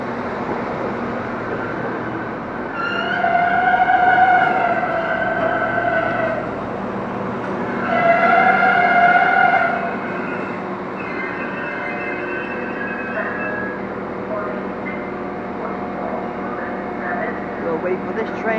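A train at Warrington Central station runs close by with a steady rumble and two rising, tonal swells of wheel or engine whine, over platform ambience and a station announcement voice.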